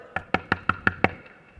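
A knock at a house door: six evenly spaced, firm raps in a steady rhythm, close and clear, with no voices.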